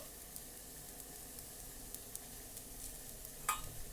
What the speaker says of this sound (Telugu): ఈ పోపులోనే సేమియా, రవ్వ రెండిటిని వేపించుకున్నాను